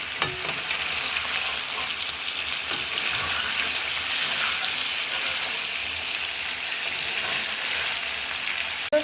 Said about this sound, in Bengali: মাছটা আমি বেশ কিছুক্ষণ একটু কষাবো।